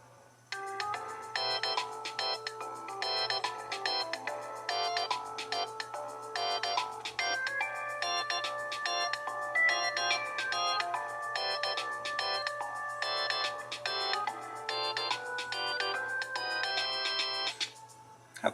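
An iOS 7 ringtone plays from a phone, a bright repeating electronic melody of short chiming notes in a steady rhythm, loud and close, running continuously without voices.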